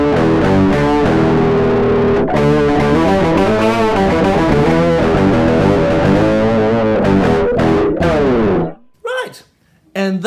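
Bass and octave-distorted guitar sounds, played through one amp with budget pedals, combine in a loud, thick, fuzzy riff that stops abruptly, followed by a few brief scrapes and noises.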